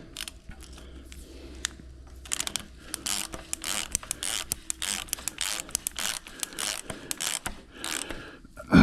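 Ratchet clicks in quick bursts while cylinder head bolts are snugged on a Minneapolis-Moline G900 tractor engine, close and fairly loud with scraping mechanical noises and short pauses between runs.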